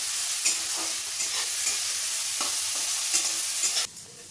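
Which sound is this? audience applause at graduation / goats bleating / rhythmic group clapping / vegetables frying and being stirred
vegetables frying and being stirred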